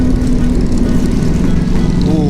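A loud, throbbing Harley-Davidson motorcycle engine roars close by with a deep, steady chugging drone, continuous throughout.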